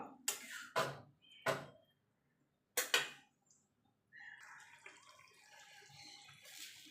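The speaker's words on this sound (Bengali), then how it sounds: "মিক্সির জারটা দিয়ে জলটা দিয়ে দেবো" Water poured from a mixer jar into a cooking pan for a ridged gourd, potato and poppy seed dish, a few short splashy bursts followed by a soft continuous pouring and sizzling wash, close and fairly faint.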